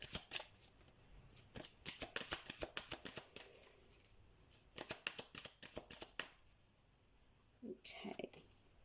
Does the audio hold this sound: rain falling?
no